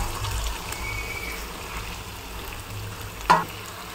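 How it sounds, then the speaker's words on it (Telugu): Chicken liver fries with onions in a pan, giving a continuous close sizzle, with a sharp clatter near the end and no speech. "ఇప్పుడు లివర్ వేసుకుందాము."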